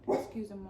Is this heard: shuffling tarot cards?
no